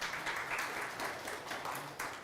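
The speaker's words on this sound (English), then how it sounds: "Yes, please, you can clap." Audience clapping for live musicians at a Havdalah service, a steady, moderately quiet patter of many hands that runs throughout without speech on top.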